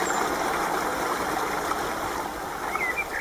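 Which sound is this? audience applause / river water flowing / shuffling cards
river water flowing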